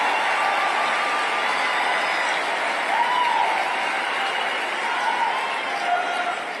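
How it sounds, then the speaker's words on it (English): A studio audience claps in a steady, dense wash of applause that holds at an even level throughout, with no voices standing out. "Delayed applause, but applause nonetheless."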